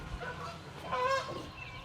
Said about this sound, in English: Let me see if I can get the geese.